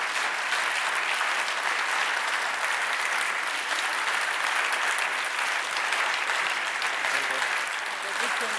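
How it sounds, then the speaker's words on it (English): Sustained, full applause from a lecture audience at an audio convention, a thick, even wash of clapping that holds steady for several seconds. "Time for applause."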